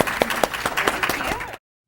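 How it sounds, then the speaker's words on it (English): A brief round of audience applause for a panel at a library event, steady clapping for under two seconds before cutting off abruptly. "We can do a quick round of applause for our panelists."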